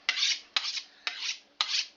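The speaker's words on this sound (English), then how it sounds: "Let me sharpen this." A kitchen knife drawn across a sharpener in four even, rasping strokes, each a bright scrape that fades before the next, close and alone with no talk.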